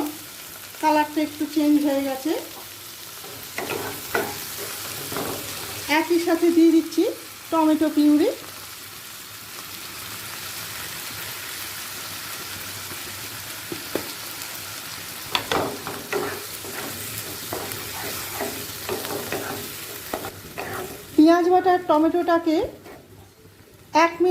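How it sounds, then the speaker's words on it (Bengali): Onion paste frying in a pan for katla fish kalia, with a steady sizzle and occasional stirring scrapes running throughout, close by, while someone talks in several bursts over it. "হালকা লাল করে ভাজা হয়ে গেছে এই সময় দিয়ে দিচ্ছি চা চামচে ভর্তি দু চামচ পেঁয়াজ বাটা"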